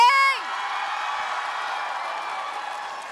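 A convention panel audience cheers and applauds for Hermitcraft SMP at TwitchCon 2024, a steady wash of clapping and whoops from a large crowd after a brief shouted cry at the start.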